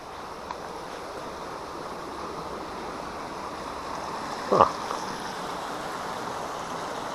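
Running water from a stream outdoors makes a steady, broad rushing wash throughout. A brief louder splash or knock lands midway, and no voices are heard.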